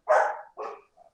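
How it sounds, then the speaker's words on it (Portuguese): A dog gives two quick barks close by, then a short faint yip, with nothing else around them. "o cachorro vai começar a latir agora"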